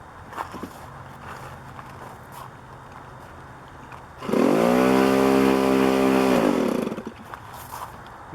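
A B24 engine is started at half throttle with the choke on: after quiet shuffling, it catches and roars steadily for a few seconds, loud and close, then cuts back down to background noise.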